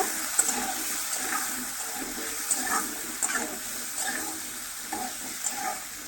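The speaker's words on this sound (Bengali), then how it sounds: "এবার ভালো করে নেড়ে চেড়ে নেব।" Potatoes and paneer with salt and turmeric being stirred in a pan, soft scraping and clinking strokes repeating over a steady low sizzle, close and fairly quiet.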